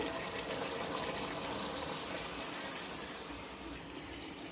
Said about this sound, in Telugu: ఇంకా వాటర్ అయితే దీంట్లో యాడ్ చేసేసుకుందాము